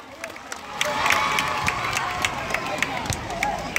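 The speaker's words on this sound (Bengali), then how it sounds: "এই ছেলেমেয়েরা হাততালি দাও" Children clap at an outdoor school sports day among a murmuring crowd, the scattered claps sounding as sharp, uneven bursts over a steady background hubbub.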